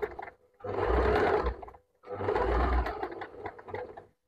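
A sewing machine, run by a foot pedal, stitches a spiral pattern as the fabric is turned, in two close, loud bursts of rapid whirring separated by a short pause, then a tapering run of slower stitches.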